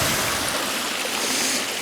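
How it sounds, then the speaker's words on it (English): A stream flowing beside a pond in woodland, a steady broadband rush and trickle of moving water heard close and continuous, with no talking. "Let's take a closer look at the stream we have here."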